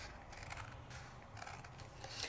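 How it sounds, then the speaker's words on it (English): Scissors snip through card stock to trim a matching mat for a handmade card, a quiet close crisp cutting sound repeating a few times with no talking. "Now I take another one and I cut it on down"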